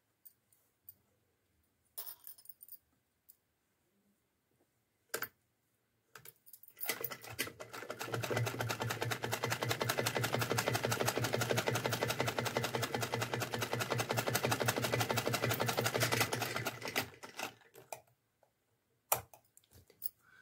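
A sewing machine stitches a small Laddu Gopal outfit for Holi in one continuous run of rapid, even mechanical ticking lasting about ten seconds, with a few scattered clicks of handling before and after.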